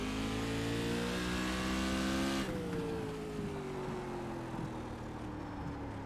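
Silver Crown race car engine in a racing game set at Martinsville, revving hard with a steady climbing whine, then easing after a gear change into a lower drone that slowly rises again, loud and close with no talk.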